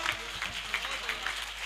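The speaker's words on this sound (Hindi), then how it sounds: "एक बार जोरदार तालियां।" Audience applause rises in a hall after a call for a loud round of clapping, steady and moderately loud with crowd murmur and a voice over it.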